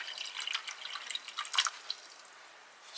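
Water poured from a container into an MRE drink pouch, a faint, uneven trickle with small splashy drips and gurgles that fade out toward the end, heard close and alone.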